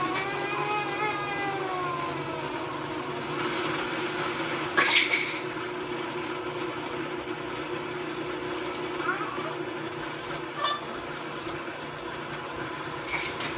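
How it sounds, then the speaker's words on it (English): A blender whirs steadily as it mixes strawberry waffle batter, a continuous motor hum with a few clinks, while a person talks over it. "So I'm blending my batter here."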